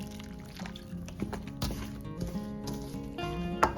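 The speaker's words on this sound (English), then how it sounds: "I'm just gonna take some water and we're gonna pour that in" Water poured into a bowl of seed-starting soil-block mix, a soft trickling pour with scattered splashes and drips, close by, with no one speaking.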